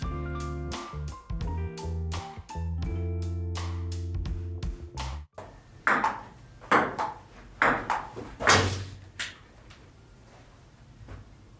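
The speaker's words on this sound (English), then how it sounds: "there's only the sound of the ball bouncing before the egg hits" A ball bounces on a hard surface several times in an uneven series of sharp, close knocks, following a run of bright electronic pings, during a recreated Zach King camera trick before an egg hits.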